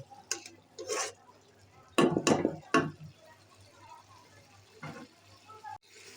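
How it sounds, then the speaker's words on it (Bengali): A lid goes onto a pan of puti fish bhuna curry: a cluster of close metallic clatters and scrapes with a faint sizzle beneath, and a voice speaks briefly at the start. "এখন আমি এটাকে ঢেকে দিব"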